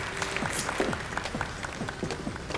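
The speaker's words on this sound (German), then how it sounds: "Einen herzlichen Applaus für uns." Applause rises from an audience at a stage show, a moderate patter of clapping with distinct claps popping out at a steady pace, mid-distance.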